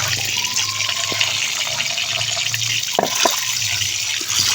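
Water splashes and runs steadily in a basin, with a few louder sloshing bursts as leafy greens (pea shoot greens) are rinsed.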